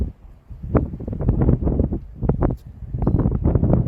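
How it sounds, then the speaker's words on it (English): Gusty wind buffets the microphone in low, rumbling bursts that rise and fall over a few seconds, with no one speaking. "It's windy."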